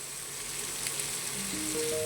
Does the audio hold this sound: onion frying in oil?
yes